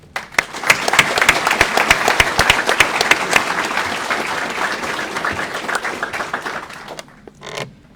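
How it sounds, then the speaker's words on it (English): A graduation ceremony audience for a Supply Corps basic qualification class breaks into sustained applause, loud dense clapping rising quickly then thinning out and stopping, with a brief stray sound after. "So how about a round of applause?"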